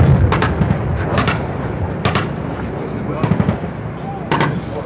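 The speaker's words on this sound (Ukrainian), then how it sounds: "Ось так стріляють трасерами." Military training exercise with tracer rounds fired, sharp cracking shots in bursts and singles over a rumbling background, with voices underneath.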